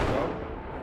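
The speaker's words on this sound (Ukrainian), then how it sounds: "З місця, де постійно чути вибухи." A single heavy explosion from shelling near a front-line position, a loud deep blast that rumbles and decays over under a second.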